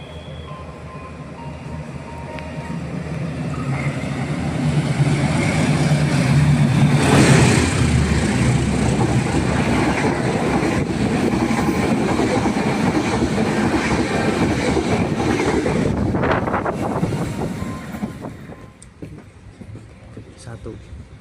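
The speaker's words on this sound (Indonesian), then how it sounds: "di sini kita akan disusul oleh kereta tambahan Pasar Senen Lempuyangan" An extra passenger train on the Pasar Senen–Lempuyangan line passes on the railway. Its loud, steady rumble and clatter builds, peaks, then fades toward the end, with a person talking over it.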